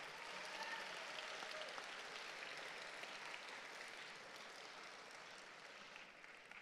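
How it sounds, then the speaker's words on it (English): Graduating high school class and audience at a commencement ceremony give a round of applause, a broad, steady wash of many hands clapping at an even level for several seconds, heard from a distance in a large space. "can we give everybody a round of applause?"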